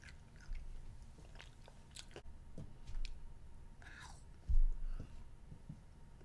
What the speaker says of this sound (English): Those little bugs are really hard to chew.